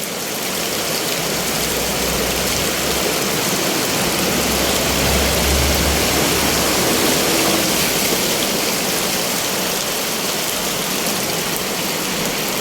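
Floodwater rushes loudly and continuously down a street in a broad, hissing roar, with a low engine hum rising briefly in the middle.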